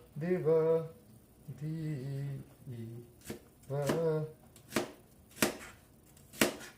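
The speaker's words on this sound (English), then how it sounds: "Getting some onions ready for caramelizing" Onions are chopped on a board for caramelizing, with about five sharp, separate knife strikes at an uneven pace. A person talks before and between the first cuts.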